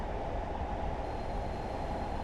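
A train rumbles steadily in the Train Simulator video game, a dense low drone that holds even and continuous throughout, with no talking.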